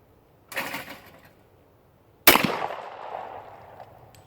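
An old Remington 11-48 shotgun fires at clay targets outdoors, two separate booming shots about two seconds apart, the second sharper and louder with a long fading echo, no talking in between.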